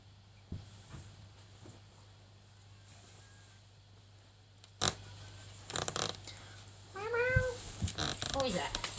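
Domestic cat meowing close by, several rising-falling meows in the latter half after a sharp knock, with faint household rustling and a low steady hum underneath.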